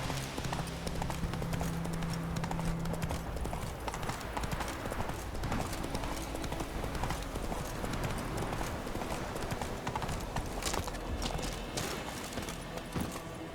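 Hooves of the horse Roach clip-clop steadily at a trot in The Witcher 3, a continuous rhythmic clatter up close amid dense game ambience and music, with no clear speech.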